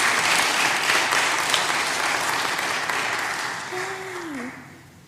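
An audience applauds at a Shabbat service, dense steady clapping that swells, then thins and fades out over about five seconds, with a brief voice near the end.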